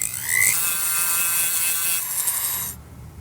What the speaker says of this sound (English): I'm just gonna flatten that spot with my rotary tool.